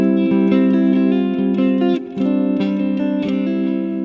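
Triad chords picked on a guitar, clean and close, changing every half second or so in a steady rhythm with no voice.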